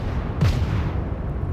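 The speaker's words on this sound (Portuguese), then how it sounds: "Deixa eu concentrar um monte de tiro nele." Cruiser gunfire from the Charleston warship in the naval battle game World of Warships, a single low boom that rolls into a sustained rumble over steady background noise.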